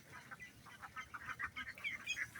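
A flock of village ducks running together gives off a quick, faint series of soft quacks and calls in an uneven rhythm, heard at a distance.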